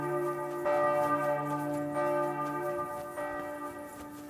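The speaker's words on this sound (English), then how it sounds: "The bells, the bells." Church bells ring in a medieval video game, with several bell strikes sounding in succession, each leaving a long, resonant, slowly fading ring that overlaps the next.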